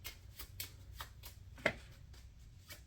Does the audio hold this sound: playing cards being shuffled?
yes